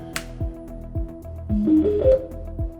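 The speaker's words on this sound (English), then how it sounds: "that noise you hear is a Bluetooth speaker" A soft electronic chime plays a short rising sequence of tones over faint rhythmic ticking, the prompt-like beeps of a Bluetooth speaker in a 2018 EZGO RXV golf cart waiting to pair.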